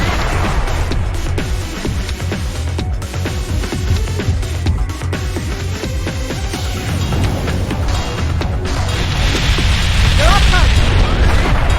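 Grenades burst one after another in a video game, a dense, loud barrage of booms and crackling impacts that runs on without a break, with a voice talking over the din.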